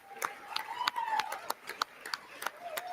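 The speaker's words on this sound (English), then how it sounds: "Who's clapping like that? That is so annoying." A single person clapping in the State of the Union audience, giving a string of sharp, uneven slaps about three times a second. They stand out over a quiet room, with talk going on around them.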